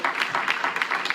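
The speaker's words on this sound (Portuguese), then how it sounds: "Vamos aplaudir ao Senhor." Church congregation applauding during a Portuguese-language sermon, a short steady patter of many hands clapping with no voices.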